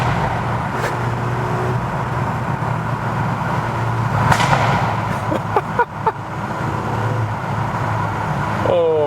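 A VW Golf 8 R driving through a tunnel with the window down, its engine and exhaust roaring loudly and echoing, with sharp pops and crackles from the exhaust and a voice talking over it.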